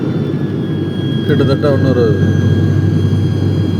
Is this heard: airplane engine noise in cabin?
yes